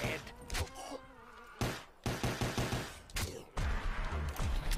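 Gunfire in a zombie video game: loud bursts of rapid shots come in several volleys with short gaps, sharp broadband cracks over a busy background of game effects.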